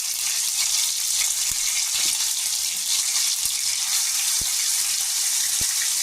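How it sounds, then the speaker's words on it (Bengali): Ginger garlic paste frying in hot oil gives a loud, continuous hissing sizzle that holds steady throughout, with a few soft clicks under it. "আদা রসুনটাকে ভেজে নিয়ে আমি তারপরে আমি পেঁয়াজ কুচনোটা দিব।"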